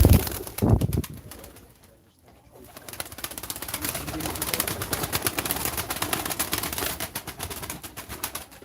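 Pigeons softly cooing at a live pigeon auction, a faint, continuous murmur of birds close by, with a brief thud near the start.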